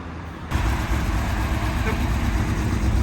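The engine of a 1970 GMC C30 welding truck starts and runs, with a low, rough idle that rumbles steadily after a sudden onset, and someone talking faintly over it.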